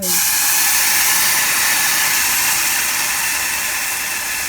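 Broth ladled into a pan of rice sets off a loud, steady sizzling hiss that holds strong and close throughout, with no talking.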